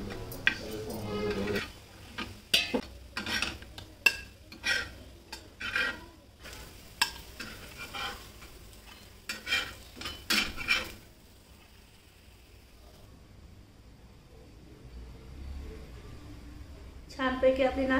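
Thin vada patties roasting in a covered pan for a breakfast dish, with a soft sizzle under intermittent spatula scrapes and taps on the pan, someone talking over parts of it, then a stretch of quieter sizzling alone.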